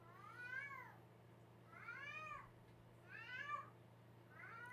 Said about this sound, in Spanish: Mirad el gato.